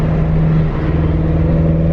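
BMW F10 M5 engine running on E85 fuel under hard acceleration, a loud, close, steady roar with a strong low tonal hum inside the car.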